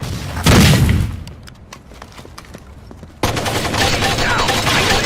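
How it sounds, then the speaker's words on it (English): Grenade explosion and gunfire in the tactical shooter Rainbow Six 3: Black Arrow: a loud, deep blast, then scattered sharp gunshots, then a second wave of dense, sustained noise, with brief voices under the din. "Grenade!"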